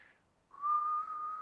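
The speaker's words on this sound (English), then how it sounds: "If I try to whistle higher by just blowing harder" A person whistles alone, starting with a short soft note, then a clear, steady, sustained higher tone blown harder, close and fairly quiet.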